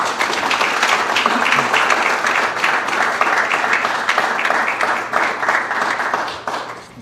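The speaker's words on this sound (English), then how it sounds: "So can we give them a round of applause," Awards ceremony crowd applauding honorees, steady loud sustained clapping from a large audience for about seven seconds, tapering off slightly at the end.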